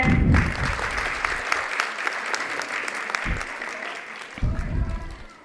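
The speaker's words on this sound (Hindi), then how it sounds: "सगळ्यांसाठी एकदा जोरदार टाळ्या." Audience at a school event at a kids' zone in Latur applauds loudly, a steady burst of clapping that swells and fades, with a voice speaking over it.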